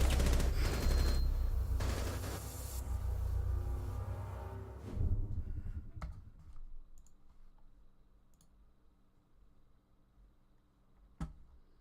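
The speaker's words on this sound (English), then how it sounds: "Pinsaya hits the perfect headshot onto Lerm" Gunfire from a shooter video game match comes in loud rapid bursts that dominate the first five seconds, then gives way to faint clicks and a single sharp shot near the end.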